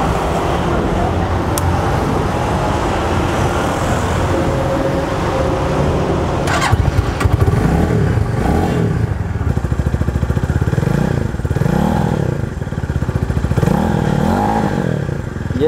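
A Thunder Skyline 200cc single-cylinder motorcycle with stock exhaust idles steadily up close, then is revved repeatedly in several rising and falling bursts over the engine's constant rumble.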